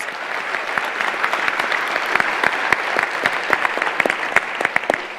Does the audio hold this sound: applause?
yes